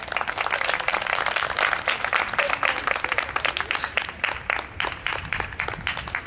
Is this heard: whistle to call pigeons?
no